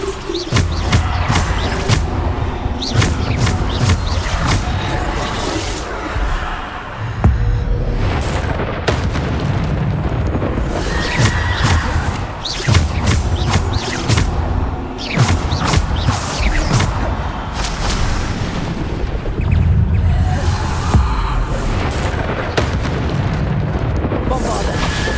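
Repeated Bombarda spell explosions in Hogwarts Legacy, heavy booming blasts and crackling bursts recurring every few seconds amid constant combat clatter, with a voice calling out spell names throughout.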